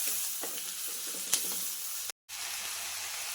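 Beans fry in a pan over a medium flame with a quiet, even sizzle and an occasional light stir, and there is a short silent gap near the end.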